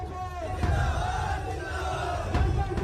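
A large crowd at an Uttar Pradesh election rally cheers and shouts in a dense, continuous roar, with chanting voices rising and falling throughout.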